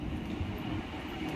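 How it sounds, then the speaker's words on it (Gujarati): A train rumbles in at a London station, a low steady roar of wheels and carriages close by, continuous and even with no voices. "હું તમને બતાવું ટ્રેન અહીં કેવી આવે"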